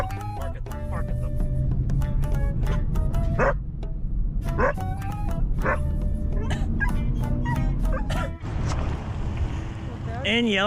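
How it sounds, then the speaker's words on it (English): Dogs bark and yip repeatedly inside a vehicle during a flood evacuation drive, high excited barks over a steady road rumble, with people talking throughout. "Bark at them, bark at them."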